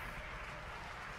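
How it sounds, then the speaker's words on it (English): A distant crowd cheers at a SpaceX rocket launch at Cape Canaveral, heard as a steady, broad wash of roaring noise with no distinct voices standing out. "And you can hear all the cheering in the background."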